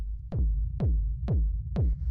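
Four evenly spaced deep techno kick drum hits with a low rumble tail, heard dry without drum bus processing, each thump sliding down in pitch and ringing into a sustained sub-bass drone, close and alone.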